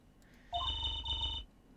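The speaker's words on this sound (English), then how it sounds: "His ringtone is Clavier's theme?" A dropped cell phone in the Ace Attorney game rings with Clavier's theme as its ringtone, a bright electronic melodic tone lasting about a second, clear and alone with no talking.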